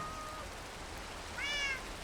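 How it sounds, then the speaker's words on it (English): A pet cat in the Minecraft modpack game ATM9 Skyblock lets out a single short, rising meow over a steady soft background hiss. "And we have our cute kitty meowing."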